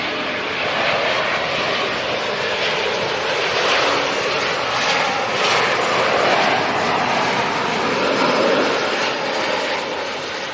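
Airliner on the Glasgow flight turning onto final approach at London City Airport, a loud sustained jet roar with broad whooshing texture that swells and eases gently, heard alone and close.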